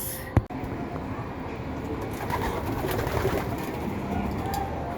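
Pigeons coo softly in a continuous outdoor background during racing pigeon training, with a brief knock near the start and low steady ambient noise throughout.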